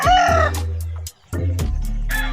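A fighting cock, a cross of Black Velcro and Hatch battle lines, crows loudly and close, then gives a few sharp clucks after a brief pause.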